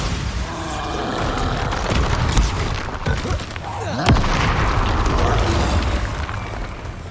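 Bombarda spell explosions in Hogwarts Legacy, a video game, boom loudly in a dense run of heavy bursts, with rumbling, crackling impacts that overlap one another.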